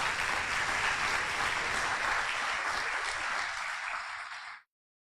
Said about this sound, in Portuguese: Aplauda o Senhor e coloque-se em pé.